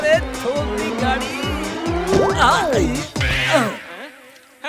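A small car drives past with loud squealing tires, high screeches swooping over a rhythmic engine pulse amid busy background music and effects from a Hindi comedy show.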